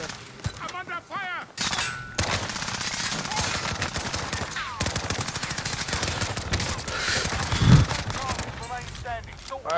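Rapid bursts of gunfire in a shooter video game crackle almost nonstop, with a few heavier thuds, under intermittent voices.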